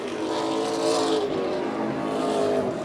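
Several race cars roar around the oval at Wiscasset Speedway, running bumper to bumper in a close battle, a loud, steady engine drone that swells slightly as the pack passes, with no voices over it.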